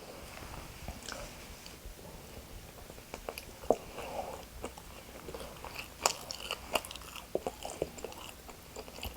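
A syrup-coated blueberry bagel from London Bagel Museum is bitten and chewed close up, with soft crunches and quiet chewing at an irregular pace.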